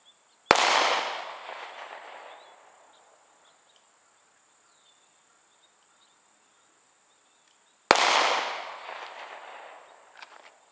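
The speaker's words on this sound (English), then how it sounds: "take a couple headshots from 15 yards" Two sharp, loud gunshots from a Smith & Wesson M&P 40 pistol in .40 caliber, fired at an outdoor range several seconds apart, each with a ringing tail, crickets faint in between.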